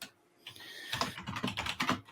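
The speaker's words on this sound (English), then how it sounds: "Sorry, I'm just typing away." Fingers type on a computer keyboard in a home office during an interview, a quick irregular patter of clicks and key taps, close and fairly quiet, with no talking.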